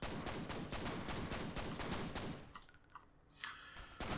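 Rapid automatic gunfire in the first-person shooter F.E.A.R., a dense continuous burst that cuts off near the end before one more short shot.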